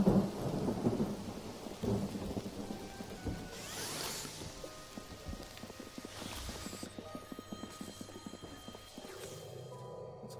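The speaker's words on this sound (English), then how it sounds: "I want the rain to stop falling" Rolling thunder and steady rain in the video game Mind Over Magic, with a loud rumble at the start and scattered patters and game sounds continuing beneath.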